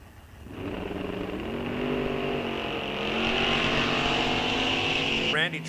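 Drag race cars in a bracket race launch off the line, engines rising into a loud sustained roar that builds and holds, with a sharper burst near the end.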